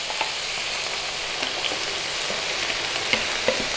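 Beef stock poured into a pan of sizzling beef mince and onion: steady, close frying hiss with small crackles and stirring scrapes, continuous and fairly loud, with no voices.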